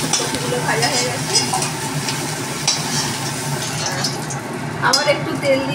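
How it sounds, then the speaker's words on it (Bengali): Cauliflower frying in hot oil in a kitchen pan, with a loud continuous sizzle and repeated stirring scrapes throughout. "এবার আমি তুলে নিচ্ছি, ফুলকপিগুলো ভাজা হয়ে গেছে।"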